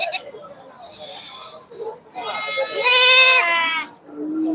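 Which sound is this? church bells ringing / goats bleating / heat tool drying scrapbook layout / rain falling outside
goats bleating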